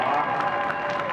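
An audience claps together in a brief burst of applause, dense and fairly loud, with a crowd murmur beneath it.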